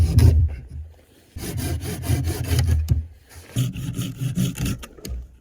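Dry, dead standing wood being hand-sawn for firewood outdoors in cold weather, with rhythmic back-and-forth rasping strokes, close and loud, pausing briefly before resuming.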